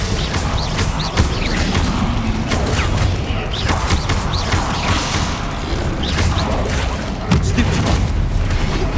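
Explosive Bombarda spell blasts in the Hogwarts Legacy video game boom and crash repeatedly amid dense combat noise, loud and continuous over the whole stretch.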